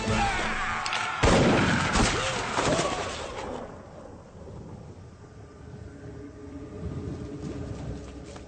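A single gunshot rings out in an anime sword-fight scene, a loud sharp crack followed by a long rumbling echo that slowly fades beneath ambient noise.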